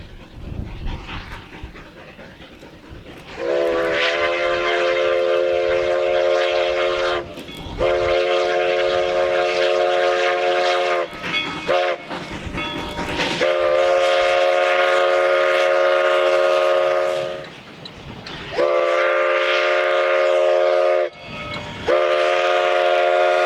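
A Rio Grande 425 steam locomotive's whistle blows long, loud chords again and again, with short breaks between blasts, over the rumble of the historic 1917 passenger train passing near Antonito.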